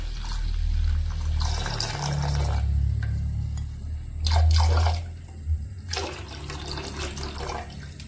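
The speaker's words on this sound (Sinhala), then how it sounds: "මේ විදිහට ටික වෙලාවක් හොඳට මේ ටික නටද්දී මම මේකට කිරි කෝප්ප එකමාර එකතු කරගන්නවා" Milk poured into a pot of boiling masala chai: gushing, splashing liquid in several bursts over a low bubbling rumble, close and fairly loud, without speech.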